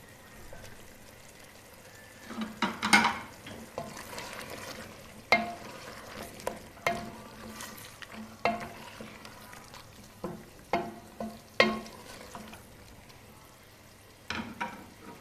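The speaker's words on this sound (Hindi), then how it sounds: "गोश्त भी थोड़ा सा भून चुका है।" Mutton sizzles quietly in a pan for bhuna gosht while a utensil stirs and scrapes it, giving sharp clatters every second or two over a steady low hiss.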